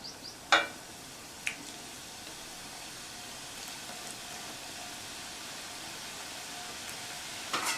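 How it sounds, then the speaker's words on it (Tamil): Wheat biscuit dough sizzles in hot oil in a kadai: a steady, quiet frying hiss with a couple of brief pops and clinks near the start and end. "கடாயில் எண்ணெய் விட்டு சூடாகிடுச்சு. கட் பண்ணி வச்ச பிஸ்கட்ஸை சேர்த்துடலாம்."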